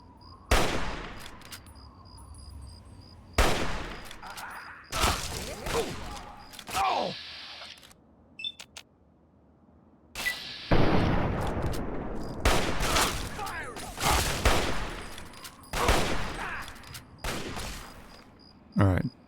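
Gunfire in the video game Fallout 3, with scattered loud bursts and single shots separated by quieter gaps, some rapid volleys, heard close and mixed with game effects.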